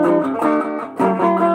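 Electric jazz guitar playing a short chord progression in the reverse direction, a few sustained chords changing in quick succession, clean and close, with no talking.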